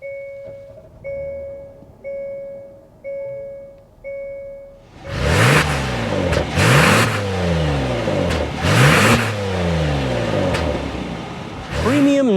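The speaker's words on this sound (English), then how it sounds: "start up this V6 so you can hear that exhaust note" A V6 engine in a 2024 Hyundai Palisade Calligraphy starts up after a few door chimes, then revs several times in repeated rising bursts, heard close and loud over a steady idle.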